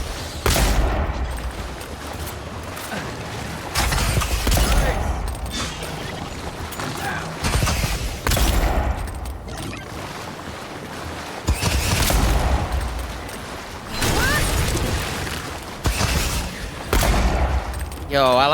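Pistol shots in the fantasy video game Avowed, fired in several separate bursts of sharp cracks with mechanical clicks between them; a player talks at times.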